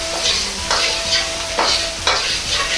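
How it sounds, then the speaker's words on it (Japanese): Garlic and ginger stir-fried in hot oil for mapo eggplant, a steady sizzle broken by four or five rhythmic scraping bursts as the spatula tosses the pan, close and loud. "ニンニク、生姜も油となじませるように炒めます。"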